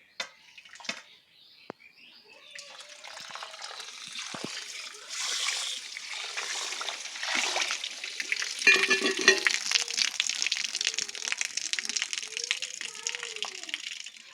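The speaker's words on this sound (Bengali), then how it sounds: "সব থেকে প্রথমে বিরিয়ানির চালটা একটু ধুয়ে নেব।" Biryani rice is washed in water during village cooking: a steady wet swishing and sloshing, with splashes that build and continue close by.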